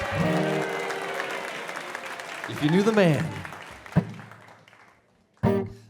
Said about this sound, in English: give my dad a round of applause